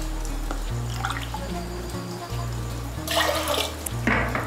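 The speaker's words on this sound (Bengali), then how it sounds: "এর মধ্যে আমি দিয়ে দিচ্ছি 2 কাপ জল।" Water is poured from a cup onto dal in a pressure cooker, a bright splashing gush that comes in two bursts over a low steady hum. It sounds close and fairly loud.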